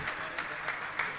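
Audience clapping at a Digambar Jain community gathering, steady and fairly faint, with a few sharper accents standing out rhythmically in a short burst.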